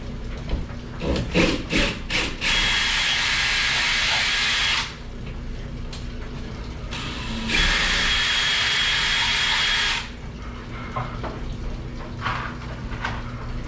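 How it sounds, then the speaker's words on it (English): A power drill whines in two long, steady bursts drilling holes in a wall, separated by short scraping and handling clatter, close and loud. "I'm going to drill my holes."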